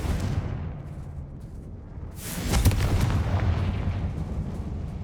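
A Confringo fire spell blasts in Hogwarts Legacy on PS5, with a low rumble building into a sharp explosive burst and a long roaring, crackling tail, loud and close, with no talking.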